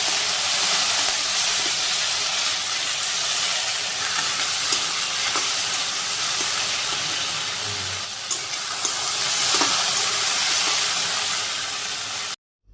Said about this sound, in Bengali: তেল দিয়ে দিতেছি ঢেঁড়স ভাজি করলে ঢেঁড়সগুলো দিতেছি এখানে